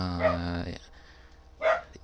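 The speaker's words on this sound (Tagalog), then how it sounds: "pasensya na po kayo sa aking aso kasi yan gusto niyang sumabay" A dog barks twice indoors, a yappy bark at the start and another after a short pause, loud and close.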